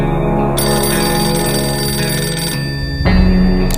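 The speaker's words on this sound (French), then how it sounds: "Le téléphone sonne encore." A telephone rings in a video game, a bright electronic ringtone that sounds steadily and then shifts to a lower tone near the end.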